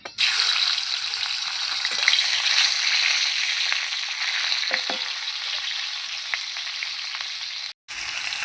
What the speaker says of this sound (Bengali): প্রথমে কিন্তু এই মাছের মাথাটা ভেজে নেব